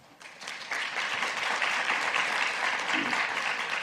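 Seminar audience applauding to welcome speakers, a dense, sustained round of clapping that swells quickly and holds steady to the end.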